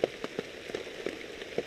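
Rain coming down on a deer hunting blind in bad weather, a steady patter with distinct drops tapping the blind at irregular intervals, close and moderately loud, no talking.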